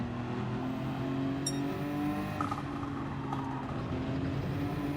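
Nissan Skyline engine in Gran Turismo 7 during an online daily race, a steady sustained drone with stacked harmonic bands, holding fairly constant with slight pitch shifts, close and continuous throughout.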